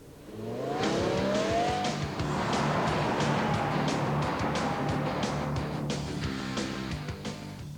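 A car waits on a runway with its engine running, a loud steady drone that holds throughout with no talking, ahead of a 2005 high-speed run.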